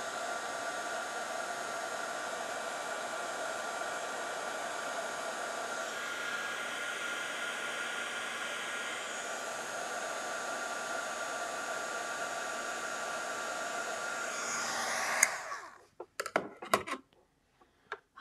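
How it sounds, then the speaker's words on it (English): A heat embossing tool blows hot air on its low setting, a steady close whooshing roar that runs unbroken for about fifteen seconds before cutting off, followed by a few brief clicks and taps. "I'm going to switch to the low setting on my heat tool just so I can prevent lots of working"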